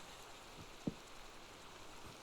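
Rain falls in the Minecraft video game as a faint, steady hiss of drops, with one brief soft tap partway through. No one speaks.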